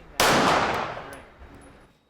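A single sharp gunshot at a shooting range cracks out, followed by a long reverberant decay ringing off the surroundings, with no voices.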